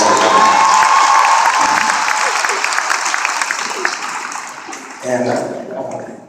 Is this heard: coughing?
no